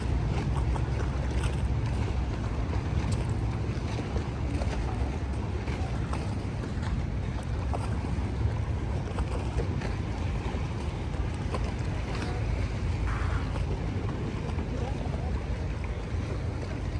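Steady engine rumble and water wash from a vaporetto water bus in Venice, continuous and fairly loud, with wind buffeting the microphone throughout.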